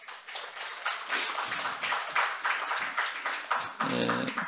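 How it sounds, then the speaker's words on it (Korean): Church congregation claps during Sunday service announcements, a lively but fairly quiet patter of many hands in uneven rhythm, ending as a voice begins. "우리 박수로 격려하겠습니다"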